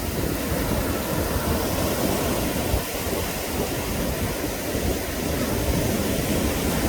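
Night surf at Daecheon Beach in Korea, a steady broadband wash of breaking waves that rolls on continuously and fairly loud, with no clear pauses and no voices.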